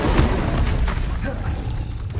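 A fire spell cast in the video game Hogwarts Legacy lands as a loud, dense whoosh with low booming rumble that fills the whole short span, with game sound behind it.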